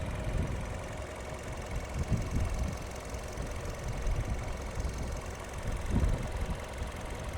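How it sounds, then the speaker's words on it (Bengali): A 2018 Toyota Camry with a four-cylinder engine idles, a steady close mechanical rumble with a faint regular ticking texture and no talk over it. "দেখেন ইঞ্জিনে কোনো শব্দ আছে দেখেন এই যে দেখেন ফোর সিলিন্ডার গান এটা"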